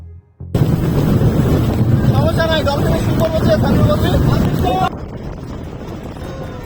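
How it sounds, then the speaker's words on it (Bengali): Heavy wind and rain batter a boat in the Sundarbans, making a loud, continuous roaring buffet that drops slightly near the end, while someone speaks over it. "যেহেতু অনেক বৃষ্টি আর বাতাস"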